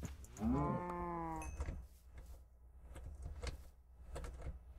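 A single low cow moo from Minecraft sounds up close and fairly loud, followed by quieter clicks and soft game noises.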